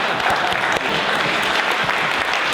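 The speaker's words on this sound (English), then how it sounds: "maybe you can give a good round of applause" Sustained audience applause after an in-conversation event at a church hall, dense steady clapping from a full room throughout, fairly loud with no talk over it.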